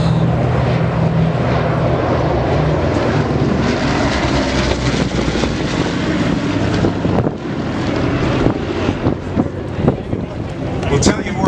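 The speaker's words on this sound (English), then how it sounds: "The Super Fortress." A B-29 Superfortress bomber flies over a 2019 air show at Tinker AFB, its piston engines giving a loud, steady drone under strong wind buffeting, rising slightly toward the end.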